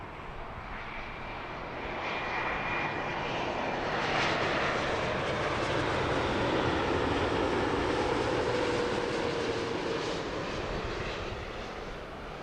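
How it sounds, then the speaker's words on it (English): A British Airways Dreamliner lands at Heathrow, its jet engines a loud, continuous broadband roar that swells and holds steady throughout. "No messing around from that BA Dreamliner. Get her down."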